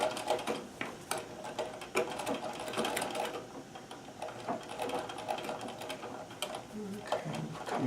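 A Singer 237 sewing machine stitches free motion embroidery, rapid rhythmic mechanical clatter in short bursts and runs, close by with a voice talking over it.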